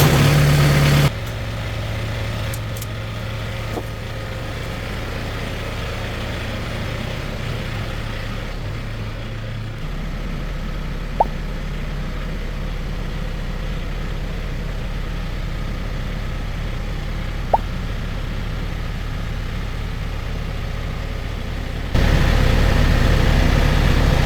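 An LS MT242 tractor idles and rumbles with a low, steady diesel drone while backing into position, close and continuous, with a brief shift in tone midway and a few faint clicks, no voices.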